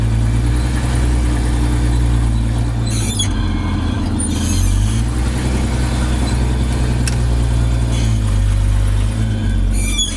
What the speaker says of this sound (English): Put it in reverse and see if I can go.